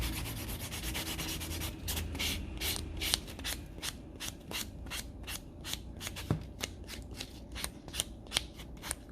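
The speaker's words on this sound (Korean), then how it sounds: "팁턱을 이렇게 갈아내 주셨으면 샌딩 버퍼 전체 하시면서" A sanding buffer files down the edge of an artificial nail tip in quick, rhythmic rasping strokes, close and steady, with faster scrubbing strokes toward the end and no talk.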